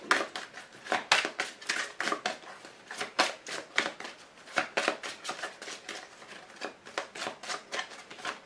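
Tarot and archangel oracle cards shuffled and drawn by hand, a steady run of quick papery flicks and slaps, close and fairly quiet, with no talking.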